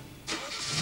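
A car engine cranks and catches, a short burst of starter whir turning into a firm mid-pitched engine note that holds steady, close and fairly loud.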